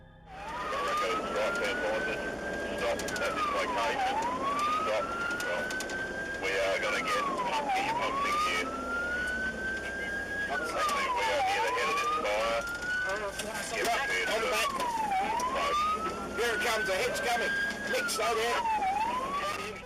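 Fire engine siren captured on a dashcam while driving toward a forest fire with flames along the road: a steady wailing siren rising and falling in repeated cycles, loud and close, over road noise and someone narrating.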